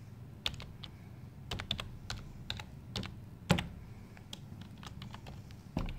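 A computer keyboard rattles with a run of irregular quick keystrokes as a password is entered to sign in, close and fairly quiet, with short pauses between bursts of clicks.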